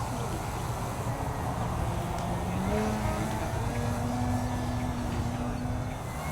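An XR-52 RC model airplane flies a big knife-edge loop, giving a steady, continuous motor whine with slowly shifting pitch that stays fairly loud throughout.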